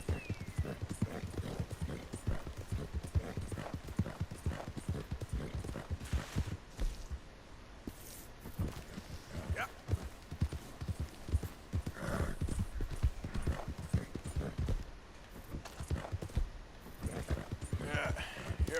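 Horse hooves clip-clop steadily on the ground in the video game Red Dead Redemption 2, a close, continuous rhythmic trot with a brief whinny and faint talk mixed in.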